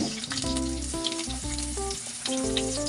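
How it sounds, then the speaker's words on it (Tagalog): Bangus (milkfish), dusted in flour, frying in hot oil, giving a steady close sizzle that runs under a loud tonal music track for the whole stretch. "Pero iluluto, piprito muna natin yan."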